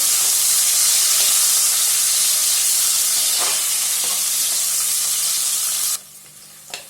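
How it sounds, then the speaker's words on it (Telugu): Thinly sliced onion with fennel seeds frying hard in a pan, a loud continuous close sizzle with a few stirring knocks, cutting off sharply near the end to near quiet. "సన్నగా పొడవుగా కట్ చేసుకున్న ఒక ఆనియను వేసుకొని ఒకసారి ఒక నిమిషం పాటు బాగా ఫ్రై చేసుకున్నామండి ఈ ఆనియన్స్ని"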